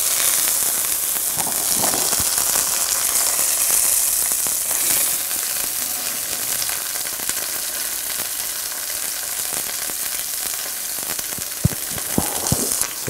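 Stuffed chicken sears in a hot pan with a steady, loud sizzle throughout, a few sharper pops and crackles standing out near the end.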